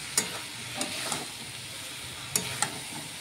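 Spice paste frying in a pan for a banana-flower curry, a soft steady sizzle with a few sharp scrapes of stirring, heard alone with no talk.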